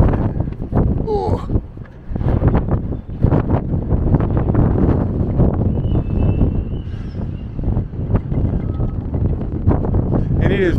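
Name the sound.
wind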